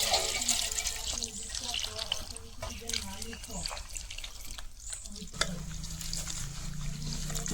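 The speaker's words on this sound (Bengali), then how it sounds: "এখন আমি এটা জলদি দইমু এটার মধ্যে জল দিয়ে দিলাম" Water splashes and swirls over drumstick leaves in a bowl for washing, with uneven sloshing and trickling nearby.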